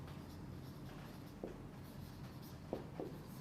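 Pen scratching out notes during a biology lecture, a few short strokes on paper, quiet and close, against a faint steady room hiss with no talk.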